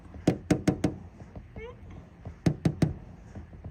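Two bursts of four sharp knocks each sound up close, apparently a hard rap on wood, with a brief rising vocal sound in the pause between them.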